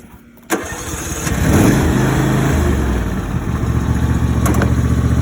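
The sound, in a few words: 2021 John Deere riding mower engine starting and running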